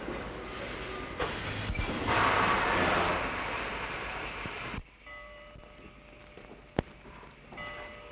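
A train rumbles and rattles steadily nearby, with a louder passing surge early on, then quieter rolling and a sharp metallic click.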